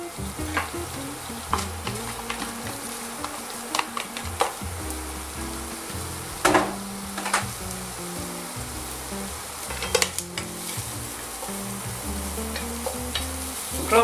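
Shallots sweat in a pan with a steady, close sizzle and frying crackle, plus occasional sharp clinks and scrapes of stirring, continuous throughout with no talk.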